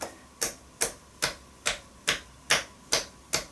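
Hands give a percussive tapotement massage, producing eight crisp, evenly spaced taps with a quick bouncing rebound, close and clear with no talking.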